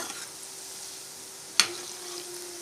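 Pakkavadai frying in oil over a low flame as it is lightly stirred, a soft steady sizzle with a faint hum and one sharp scrape of the spoon partway through.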